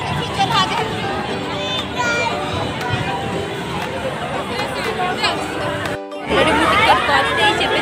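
Busy crowd chatter with children's voices and light jingling, a steady, close hubbub that briefly cuts out before swelling louder again.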